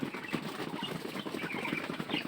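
Pigeons feeding flap and shuffle nearby, with bursts of wingbeats and rustling movement over a busy flock, loud and continuous, no talk.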